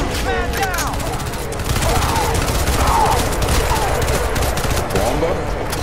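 Rapid bursts of automatic gunfire and explosions in the shooter game Crysis 2 crackle through continuously at close range, layered with other game sounds.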